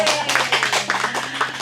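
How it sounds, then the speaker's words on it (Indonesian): Audience at a live Sundanese degung cultural broadcast claps hands, a steady dense patter of applause lasting under two seconds, fairly close, with a faint hum beneath. "Tepuk tangan atuh."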